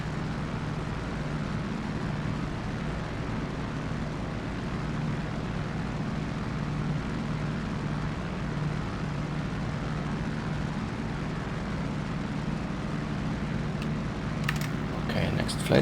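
In the DCS flight game, the F4U-1D Corsair's propeller engine drones steadily through the whole stretch, a constant loud rumble with little change.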